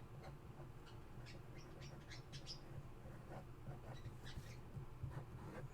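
Small pet birds chirp softly in short, scattered high calls over a steady low room hum, somewhat distant and faint throughout.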